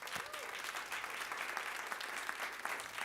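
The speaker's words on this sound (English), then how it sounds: "Can we give Reverend Eileen another clap?" A church congregation gives a steady round of applause, a soft, even patter of many hands heard from a distance.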